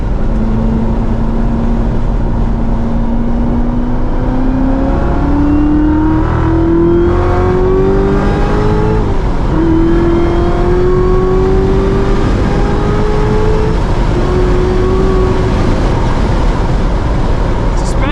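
A 2019 Chevrolet Corvette Z06 with a seven-speed manual accelerates hard on a race track, heard from inside the cabin. Its engine note climbs steadily, drops briefly with each upshift, then climbs again, loud and continuous for the whole stretch.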